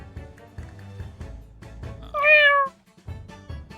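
A single clear cat meow in The Great Ace Attorney Chronicles, short and fairly loud, rising above quiet background game music.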